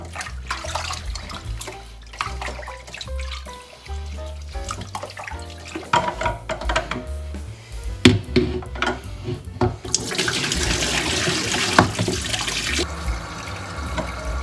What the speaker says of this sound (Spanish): Le ponemos agua limpita y al fuego.